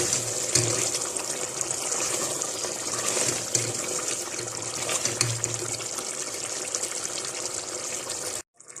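Mutton karahi sizzles and bubbles in a pot with a steady crackling hiss as the water dries off, loud and close, before cutting off abruptly near the end.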